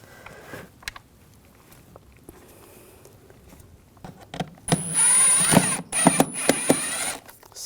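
A power screwdriver whirs in short bursts driving screws while refitting parts on a 2006-2009 Audi S4 4.2L V8, preceded by quiet clicks and handling noises, close and fairly loud.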